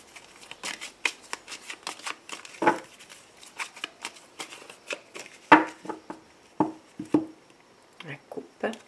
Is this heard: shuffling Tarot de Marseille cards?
yes